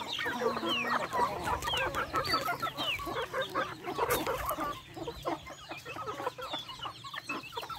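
Farmyard chickens cluck busily and continuously, close by, with overlapping calls and a brief louder squawk in the middle.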